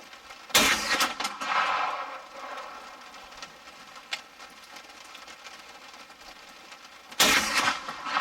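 A Hi-Point 10mm carbine fires Underwood ammunition at steel targets outdoors. Two loud, sharp reports about six seconds apart each ring out and decay, with light background noise in between.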